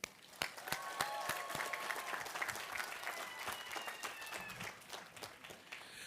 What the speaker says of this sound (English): I ask that once again you applaud the families.